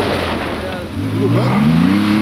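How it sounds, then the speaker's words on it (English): A Porsche 911 rally car on a historic rally stage races past, its engine note climbing and swelling as it nears, loud and close, blending with crowd and background chatter. "Ricky is back in his 911 for the first time since completing the Silver Fern Rally in New Zealand last year in a Toyota"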